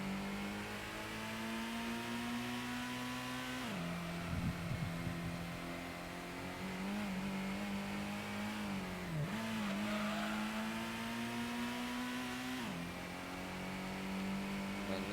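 An LMP Dragon race car in Gran Turismo 1 holds a steady high engine drone. Pitch dips briefly at several gear shifts or corners before climbing again, with no voices over the sound.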